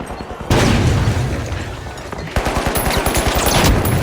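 A grenade blast from a game, a sudden loud boom followed by a dense rumble, then a second surge with rapid rhythmic popping like gunfire, all close and heavy.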